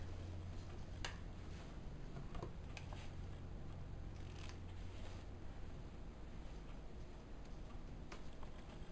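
Scissors snip through strips of hair to make practice swatches, a few faint, sparse cuts over a quiet background hiss.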